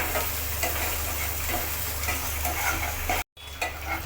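Onions and tomatoes sauté in a pan, producing a loud, steady close-up sizzle with occasional stirring scrapes, briefly cut by a short silent gap near the end.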